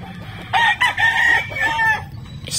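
A backyard rooster crows once, a loud, close, drawn-out call with a short break near the start, heard alone with no talk over it.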